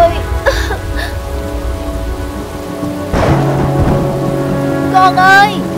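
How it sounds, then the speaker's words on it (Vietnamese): Rain pours steadily in a cartoon scene, loud and continuous, with rumbles of thunder and short cartoon voice sounds over the downpour. "Mưa rồi, mau đi tìm em con thôi."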